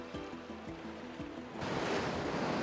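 Foamy water rushing over Antarctic-fed waves, a broad hiss that swells louder partway through after some lower churning and knocking sounds.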